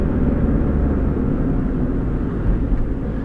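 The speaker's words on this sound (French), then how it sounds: "Y'a 2 hélicoptères de la gendarmerie qui volent en formation sur Saint-Denis." Two gendarmerie helicopters fly in formation over Saint-Denis, producing a constant heavy low rumble that stays loud and steady throughout with no distinct rotor beats, and no voices.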